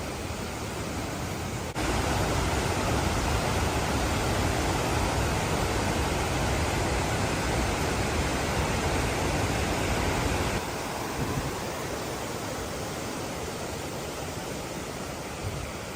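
Thunderous rushing water roars continuously near the Blue Lake trail on the Waiau Pass section of New Zealand's Te Araroa, a dense, loud wash of sound with no voices over it.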